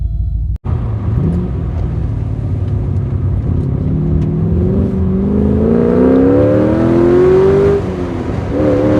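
A Porsche 944 fitted with an LS V8 accelerates hard, its deep engine note climbing steadily in pitch through the revs before easing off near the end, loud and close with no talking.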